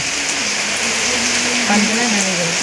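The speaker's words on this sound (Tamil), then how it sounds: "சரியான மழை பெய்யுதாங்க பாருங்க இடி மின்னலுடன் சரியான மழை நல்லா வருங்க" Heavy rain pours steadily in Tirunelveli as a loud, dense hiss. A voice speaks faintly beneath the downpour.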